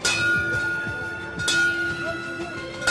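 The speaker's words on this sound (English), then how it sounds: "We'll ring the bell." A bell clangs repeatedly with a bright metallic ring over background noise and a steady hum, the strikes spaced irregularly, rung during Navy SEAL Hell Week training.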